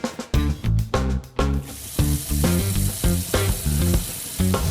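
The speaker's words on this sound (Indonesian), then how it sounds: "Teknik terakhir yang saya ingin bahas adalah frying atau fat cooking." Steady frying sizzle from hot oil in a kitchen cooking demonstration, running continuously at moderate loudness beneath repeated rhythmic music beats, with no talking.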